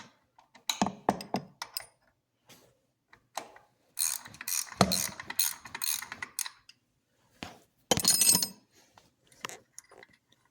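Hand ratchet clicking in short bursts while a top bolt comes out of the supercharger on a 2002 Corvette Z06, close and crisp with pauses and a few metallic clinks between strokes.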